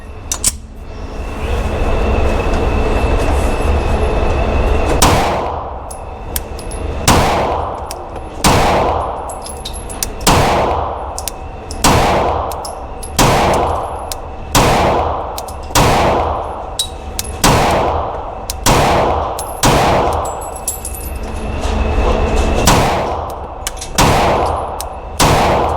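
A Rost Martin RM1C pistol fires a string of roughly fifteen sharp shots at a steady, slightly uneven pace. The shots are loud and close and cut through continuous background noise.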